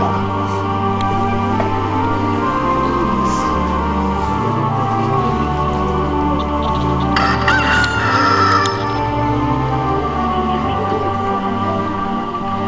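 A rooster crows loudly over a steady background of droning music and ambient sound, its call rising near the middle of the stretch during a church Passion play reenactment.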